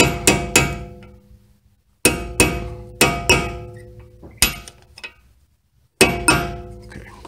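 Hammer striking a metal punch on the front brake caliper of a 2008 Mercedes-Benz S550 4Matic, with sharp ringing metallic hits in quick clusters of two or three and short pauses between, close and loud.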